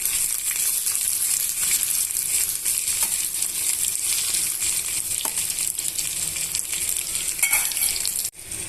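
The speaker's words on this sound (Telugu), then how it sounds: "యాడ్ చేసుకొని ఇలా వన్ మినిట్ అలా వేయించేసుకుంటామండి" Roasted gram dal and peanuts frying in a pan for a Karnataka-style chutney, a steady close sizzle and rustle with occasional stirring scrapes, continuous and fairly loud throughout.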